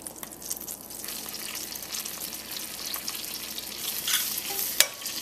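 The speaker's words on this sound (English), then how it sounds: "just as the butter's beginning to brown, I'm going to add 4 tablespoons of flour" Butter browning in a pan over a medium burner sizzles steadily up close, with stirring scrapes and a sharp clink of a utensil near the end.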